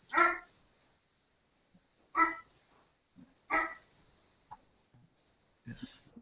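A big, cranky dog gives three sharp barks spaced a couple of seconds apart, heard at moderate distance over a faint steady whine, with a brief soft sound at the very end.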